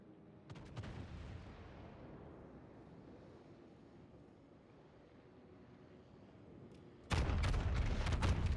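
World of Warships battleship gunfire plays out in a naval battle with a Yamato and a Vermont: a booming salvo rolls into a long low rumble, then a second heavy, sustained blast bursts in near the end.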